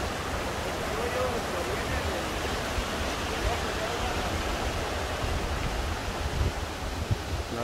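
Heavy flowing water near La Luz Tenexcalco, Oaxaca during the dry season, a constant dense rushing roar like a stream or small waterfall, steady and close throughout.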